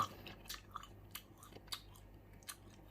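Green sour mango being eaten with a chunky fermented fish chili dip, with soft, wet chewing bites and crunches repeating every half second or so, close up and faint, without any talking.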